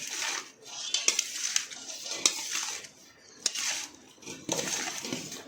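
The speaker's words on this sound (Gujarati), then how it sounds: "જે બટાકા આપણે બાફેલા છે તે અંદર આ રીતે નાખી દઈશું આપણે" Boiled potatoes are tossed and mixed in a pan with spices for bhungla batata, giving a series of soft scraping clinks and taps of a spoon against the metal pan, fairly close and irregular.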